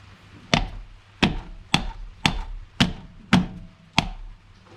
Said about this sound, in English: I'll get a hammer. Hopefully we can tap this off